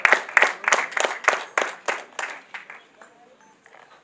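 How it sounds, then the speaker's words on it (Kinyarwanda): Guests at a wedding clap together in a steady, rhythmic beat, about ten sharp claps close by that gradually soften and fade out. "twamushimiye tukamukomera amashyi"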